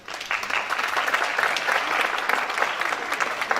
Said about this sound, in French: Pendant que le ministre descend, on continue à applaudir, s'il vous plaît